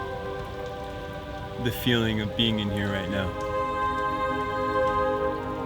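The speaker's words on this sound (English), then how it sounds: "The raindrops dripping from 158 meters above us." Raindrops fall from 158 meters overhead inside a Mexican jungle canyon, a steady pattering wash filling the space beneath a person speaking and a sustained tonal hum.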